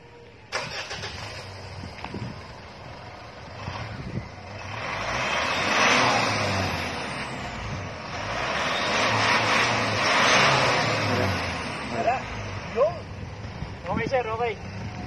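Close up, a Mitsubishi Montero Sport engine cranks and catches, then idles and revs in two long swelling surges, with a person speaking briefly near the end.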